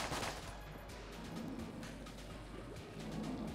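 A gun fires in rapid bursts in the roguelike game Enter the Gungeon, its crackling shots layered over dense, busy game noise at low level, with a stronger volley at the very start.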